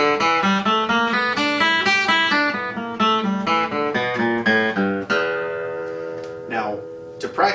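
A blues scale in open E tuning rings out on guitar as a run of distinct plucked notes, going up and then back down at a steady pace, loud and close, with the last notes left to ring.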